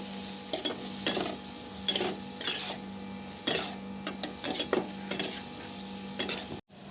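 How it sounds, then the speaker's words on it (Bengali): Fried eggplant being stirred with chili powder in a pan, a spoon or spatula scraping the pan in repeated short strokes over a steady faint sizzle, close and alone. "তারপর এখানে অল্প একটু ঝাল লঙ্কার গুঁড়ো আমি অ্যাড করব। সব কিছু ভালো করে একসাথে আমি মিশিয়ে নেব।"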